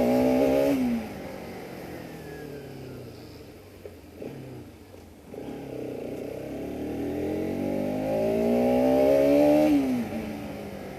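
A Bajaj Pulsar RS 200 with its factory exhaust revs sharply, drops to a lumpy idle for a few seconds, then climbs through a long, steadily rising pull before backing off, loud and close with no voices.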